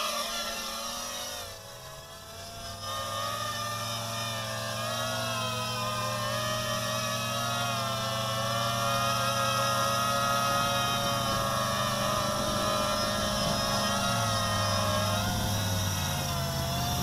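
A 250-size mini quadcopter with a wooden frame flies steadily, its rotors giving a loud, continuous high-pitched buzzing whine that shifts slightly in pitch as it manoeuvres, with a brief dip early on.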